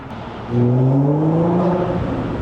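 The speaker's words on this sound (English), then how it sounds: "As we go under this tunnel here, I'll give you guys a little more exhaust sound if I can." Supercharged 2016 Audi S5 B8.5 with about 100k miles accelerating through a tunnel, a loud engine and exhaust note rising steadily in pitch as it revs, echoing close and clear.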